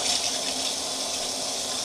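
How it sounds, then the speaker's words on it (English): Warm water runs steadily from a tap into a sink during a makeup-removal wash, a continuous close hiss and splash with no talk. "I'm using warm water"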